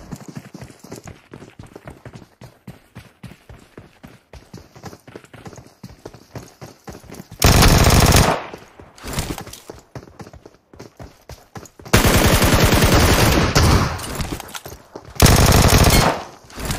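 Automatic weapon fire in PUBG Mobile on the Livik map comes as rapid repeated shots, with three loud sustained bursts of gunfire among lighter clicking and footstep-like taps.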